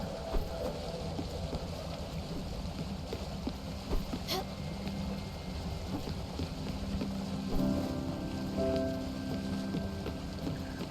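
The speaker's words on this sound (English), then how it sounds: "it just dawned on me that that was rain" Rain patters steadily in a video game, a constant close wash of drops with faint wind and occasional soft game tones layered underneath, no voices over it.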